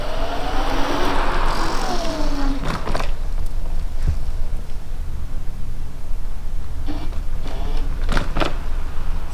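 A Toursor E8 Pro electric scooter rides in dual wheel drive in third gear, its motor whining in rising and falling tones over steady rolling road noise, with a few sharp clicks and knocks.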